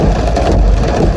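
Steady rain falls throughout on a rainy day, a dense, loud, continuous wash with no pauses and no voices.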